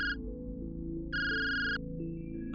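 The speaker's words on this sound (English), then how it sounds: "His phone rang, an anonymous number." A phone rings with an electronic ringtone, short repeated tone bursts sounding over a low, steady background hum.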